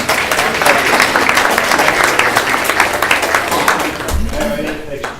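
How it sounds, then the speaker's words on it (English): A crowd claps and cheers in sustained applause for several seconds, fading out near the end. "How about a round of applause?"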